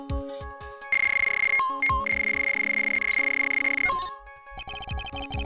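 A telephone rings in the courtroom adventure game Phoenix Wright: Ace Attorney Justice For All, a loud sustained electronic ringing tone between short chiptune bursts and blips.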